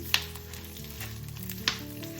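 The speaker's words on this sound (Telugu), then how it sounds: "సన్ఫ్లవర్ సీడ్స్ అండి. ఈ 3 ఇప్పుడు వేయించుకోవాలి" Sunflower seeds dry-roasting in a pan for dry fruit laddu, with a soft, quiet rustle and two sharp scraping stirs.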